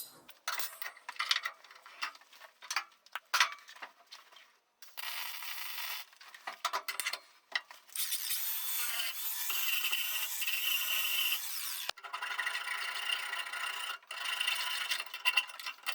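A wire feed welder lays a bead on the other side of a metal joint. It makes bright, crackling hiss in short bursts at first, then in longer sustained runs, with brief pauses between passes.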